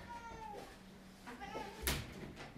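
A cat meows several times, fairly faint and drawn out, with a short sharp knock near the end.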